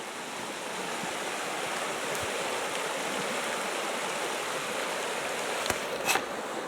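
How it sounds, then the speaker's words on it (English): Howqua River in the high country rushing past a campsite, a steady broadband wash of flowing water heard up close, continuous and fairly loud with a couple of faint clicks near the end. "And here's the Howqua River."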